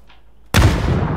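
A grenade goes off in a shooter game, a sudden loud, close blast that cuts in after half a second of near silence and then rolls out into a long, heavy rumble.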